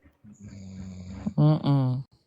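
A person produces a short, loud snoring sound up close, rough and voiced, rising into two strong drawn-out snorts, seemingly imitating snoring on request.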